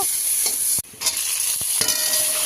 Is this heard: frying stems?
yes